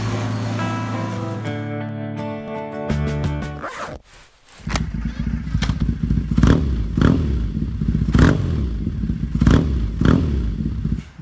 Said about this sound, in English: This is the 1969 Honda CL350 Scrambler.